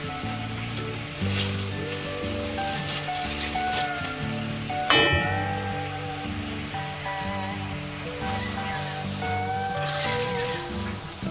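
Five hundred grams of jaggery melts slowly in a pan over a low gas flame with no water added, giving a steady, soft sizzle and crackle with occasional louder bubbling bursts throughout.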